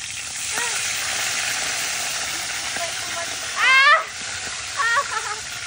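Food frying in a pan with a steady broad sizzling hiss throughout, heard up close, with a voice speaking briefly over it at a few moments.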